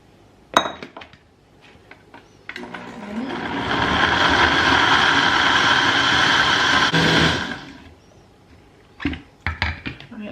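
Grated coconut and water for a gizzada filling get blended in a blender, which runs loud and steady for about five seconds. Scattered clinks and knocks of kitchenware come before and after.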